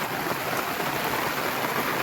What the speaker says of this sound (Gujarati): અંધળા ધાર પડે છે હાવ.